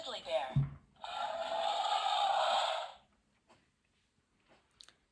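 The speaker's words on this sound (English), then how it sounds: "The grizzly bear roars." A grizzly bear roar from a children's sound book plays as one harsh, raspy, sustained blast lasting about two seconds, fairly loud, then cuts off to near silence with a few faint clicks.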